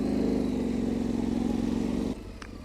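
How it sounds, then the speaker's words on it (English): An adventure motorcycle rides a controlled rear-wheel drift around cones. Its engine drones steadily at close range, then the throttle drops sharply near the end and it idles lower. "to try to carefully slide the rear wheel a little bit using a controlled drift"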